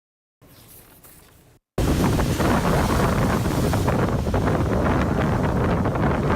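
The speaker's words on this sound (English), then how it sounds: "Waves crashing, the wind whirling. This is what it was like at high tide Sunday morning at Alligator Point." Storm-surge waves crash and churn at high tide on a coastal point, with strong wind roaring and buffeting the microphone; after a brief quieter moment the loud, continuous surf and wind fill the rest of the recording.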